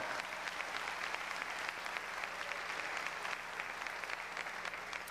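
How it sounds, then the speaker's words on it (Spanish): A church congregation applauding during a Sunday morning Spanish service, steady, even clapping from a crowd heard at a moderate distance with no talk over it. "Denle un aplauso a Él en esta mañana."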